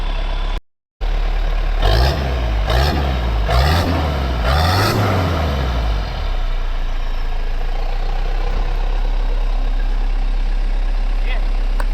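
Diesel engine of a Toyota Land Cruiser BJ70 idling close by, blipped up in four quick revs that rise and fall before settling into a steady, low, rumbling idle.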